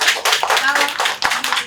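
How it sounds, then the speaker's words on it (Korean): An audience at a school storytelling event claps for a child, a brisk patter of hand claps lasting under two seconds with a brief gap near the end. "우리 박수 좀 보내줘."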